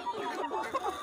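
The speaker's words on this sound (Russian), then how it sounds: "петуха вот этого я оставила" A large pale rooster among backyard chickens giving short, quick clucks, faint and close, with someone talking over them.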